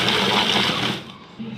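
A kitchen food chopper whirs as it blends garlic, chili peppers and salt: a loud, steady motor drone with rattling contents that winds down and fades after about a second.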